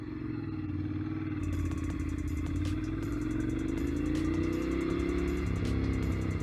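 A 2010 Ducati Monster 696 motorcycle rides along with a loud, steady engine drone that rises gradually in pitch as it gathers speed, accompanied by wind noise throughout.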